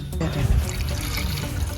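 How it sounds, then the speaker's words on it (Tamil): Water is poured into a cooking pot over jackfruit seeds for a Sri Lankan jackfruit and coconut milk curry, a continuous splashing close by. "பிலா விதைக்கு வந்து 1 கப் தண்ணி விட்டுருக்கலாம்."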